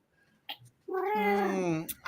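A large cat lets out one long, loud, drawn-out meow after a couple of faint short sounds, close to the microphone with no talking over it.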